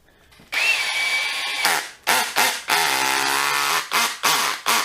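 Worx cordless drill spinning into a piece of wood under different torque settings, several loud whirring bursts of varying length with short pauses between, the motor revving up and cutting out repeatedly.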